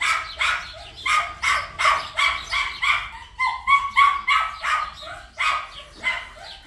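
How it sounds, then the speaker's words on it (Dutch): Small dog yapping in a quick run of about a dozen sharp, high barks, close and loud, with no talk over it. "Dat is een lief hondje."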